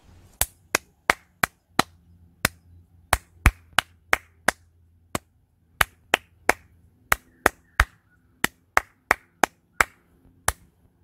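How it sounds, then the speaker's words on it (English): Two people clap a rhythm exercise together in sharp, close, dry claps, about two dozen strokes over roughly eleven seconds in an uneven pattern of short runs and pauses, with a quiet room hum beneath. "Now let's clap it together."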